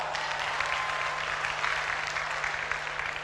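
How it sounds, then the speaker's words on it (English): A large audience at a university convocation applauds with a dense, continuous wash of clapping that stays even throughout, with a steady low electrical hum beneath. "Give yourself a round of applause."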